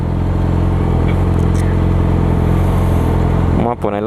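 A Yamaha R6R sport bike with an Akrapovic exhaust idles loudly and steadily up close, then briefly blips its throttle near the end, while a person talks over it.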